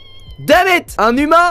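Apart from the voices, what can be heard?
cat meowing in a video game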